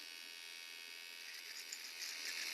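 Electric beard trimmer cutting through a beard, a faint, steady high-pitched motor buzz that grows slightly louder toward the end.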